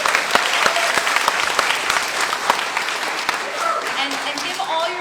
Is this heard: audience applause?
yes